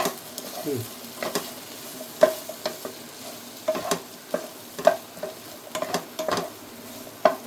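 Tomatoes sizzle softly in a pan while a utensil stirs and taps against it, scraping in irregular bursts.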